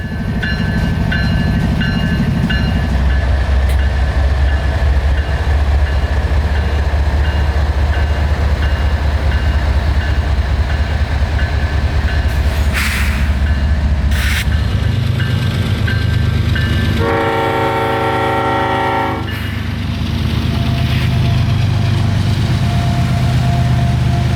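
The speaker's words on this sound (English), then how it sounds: "Q442 is back off northward for Waycross" A CSX freight train, Q442, pulls away northward with a loud continuous rumble of wagons and wheels, a brief horn-like tone partway through and rhythmic clatter beneath.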